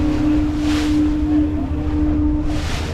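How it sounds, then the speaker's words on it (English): A ship's foghorn sounds near St. Anthony, Newfoundland, one long steady tone held for about two seconds over wind and surf noise, heard alone without talk. "I think the foghorn"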